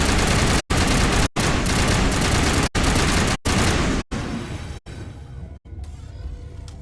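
A loud, sustained firefight in Mass Effect, with rapid gunfire broken into bursts by brief sharp cutoffs. The volume gradually eases in the final seconds.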